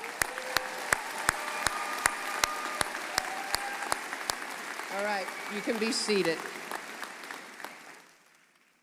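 Commencement audience in a large hall applauding, a broad sustained patter of clapping with a few sharp claps standing out, followed by someone speaking over the fading applause.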